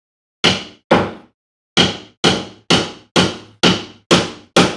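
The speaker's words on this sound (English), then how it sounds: "I'm gonna wait till Pickle's done hammering" Nine sharp hammer blows in a loose rhythm: two quick strikes, a short pause, then seven evenly spaced whacks. Each one is loud and close with a short decay, and there is no talking.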